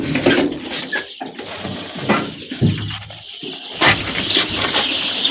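Young farm chicks in a brooder on day five, a close cluster of irregular, high chirps and peeps overlapping in quick bursts.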